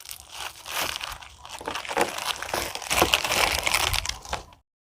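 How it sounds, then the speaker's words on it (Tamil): Oreo biscuit packets are torn open by hand and their plastic wrappers crinkle and crunch steadily for several seconds, close and loud, with no talking, before the sound stops. "இந்த பாக்கெட்லாம் பிரிச்சு பிஸ்கட்டை வெளிய எடுத்துக்கலாம்"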